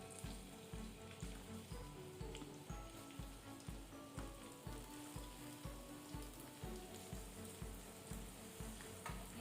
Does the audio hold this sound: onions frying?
yes